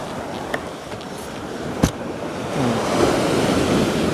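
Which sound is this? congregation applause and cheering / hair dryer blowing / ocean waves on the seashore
ocean waves on the seashore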